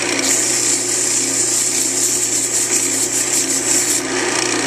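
A cork is smoothed with 400 grit sandpaper, giving a continuous close, scratchy rubbing sound with a steady back-and-forth texture.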